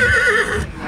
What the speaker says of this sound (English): And a horse, as you can hear in the trailer, he wants to get out.